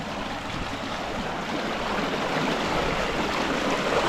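Cold water pours steadily out of an old pipe on a stormy mountainside, a constant close gushing rush with no breaks and no one speaking.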